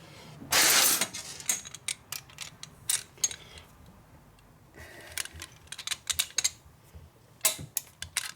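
Torque wrench clicking during the rebuild of a 1972 Harley FLH 98ci shovelhead stroker motor: a loud burst near the start, then scattered sharp, irregular clicks and clacks at close range, with no talking.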